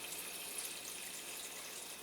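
Tap water runs steadily into a soup pot being filled with about a gallon of water for bean soup, a continuous even hiss and splash with no talking.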